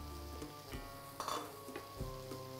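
Whipping cream simmers in a pan on low heat while a spoon stirs it, giving a soft steady sizzle with light scraping and clinking against the pan, quiet and close, with no talking.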